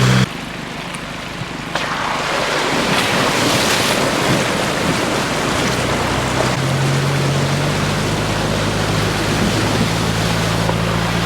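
Loud rushing water and splashing from a 4WD driving through a flowing creek on the Condamine River Trail, with an engine hum underneath and wind buffeting the microphone.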